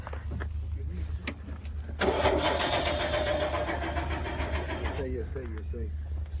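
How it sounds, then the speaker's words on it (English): A flooded Mazda RX7 engine cranks over and fails to start, giving about three seconds of steady, close mechanical churning. Voices are heard before and after it. "The same guy's been trying to start the car."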